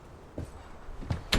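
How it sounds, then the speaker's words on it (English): A door is kicked shut in a Western drama, a few dull thumps building to a final sharper bang, close and fairly quiet, with no talking. "All right, kick that door shut."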